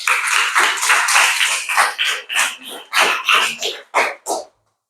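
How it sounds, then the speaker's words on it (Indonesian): Fifth-grade students in an elementary classroom clapping after a group presentation, a series of distinct loud bursts of claps in uneven rhythm that thin out and stop abruptly near the end. "kasih tepuk tangan"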